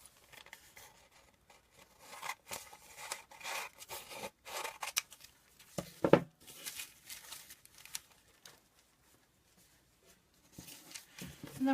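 Scissors snip paper while a flower is being made, cutting a small notch at the base of a paper stem: quiet, close crisp snips and rustles in irregular bursts with pauses between them.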